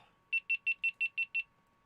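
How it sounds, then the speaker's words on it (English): Seven sharp, evenly spaced electronic beeps in quick succession, high-pitched and clear, followed by quiet. "Sorry for the loud beeping."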